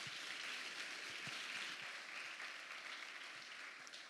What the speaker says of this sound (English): Let's give Arav Bhartia another huge round of applause.